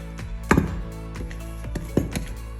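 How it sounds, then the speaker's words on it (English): Sticky paska Easter bread dough is worked with a wooden spoon in a bowl, giving soft dull knocks and scraping thuds at an uneven pace, close by and alone. "You can mix it with a wooden spoon like I am now."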